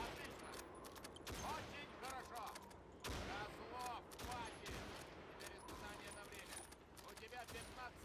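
Rapid gunfire crackles in the Call of Duty 2 video game, with repeated shots and ringing shell clinks in bursts, while a voice talks faintly underneath.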